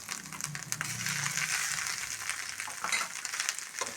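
Boiled, salted tapioca pieces fry with egg and coconut masala in a pan, giving a steady, close sizzle with stirring over about four seconds and no talk.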